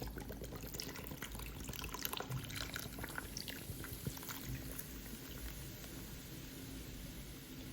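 Beer pours over tomatoes into a slow cooker, a steady, faint liquid splash running through the whole stretch without speech.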